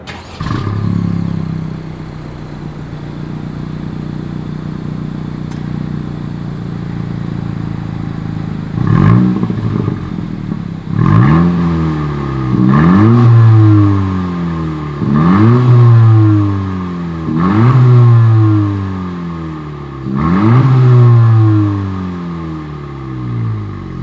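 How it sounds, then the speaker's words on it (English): Exhaust of a 2020 Honda Civic Si, idling steadily before a run of about six quick revs that climb and fall in regular succession, loud and close with no talk. "here is that exhaust clip"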